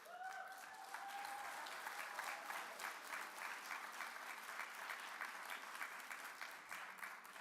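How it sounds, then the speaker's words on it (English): An indoor audience at a disability summit panel breaks into sustained applause, a dense steady clatter of many hands clapping throughout without pause. "give him a round of applause."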